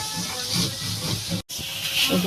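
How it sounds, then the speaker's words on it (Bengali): Mustard flowers fry in a pan for a Bengali mustard-flower paste, giving a steady, close hiss of sizzling oil with one brief dropout partway through. "সর্ষে ফুলটা আমার প্রায় ভাজা হয়ে গেছে"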